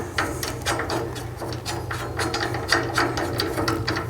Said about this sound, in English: and then secure it with your Allen wrench.